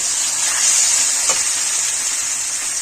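Chicken masala frying hard in a kadai pan gives off a loud, steady sizzle and hiss close up, with a brief stirring scrape partway through and no talk.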